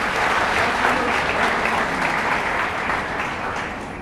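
An audience at an award ceremony applauds the chief minister, a dense, sustained round of clapping from many hands that holds steady for about four seconds and eases slightly toward the end.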